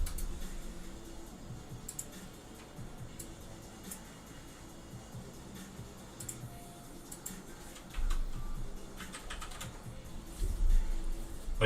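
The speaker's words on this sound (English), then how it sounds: "as I type in here" Steady typing on a computer keyboard, close and fairly quiet, with irregular bursts of keystrokes and a few louder clacks near the end, no speech.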